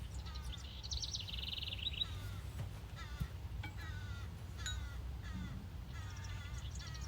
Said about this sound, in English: Got some big old black birds scoping out the chickens.